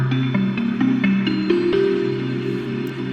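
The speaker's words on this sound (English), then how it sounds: "once we introduce the reverb, it sounds like a really big soundscape" Plucked bell-like synth tones from Massive X, drenched in large reverb, play a stepping melody over sustained low pads, forming a wide, spacious soundscape with no voices.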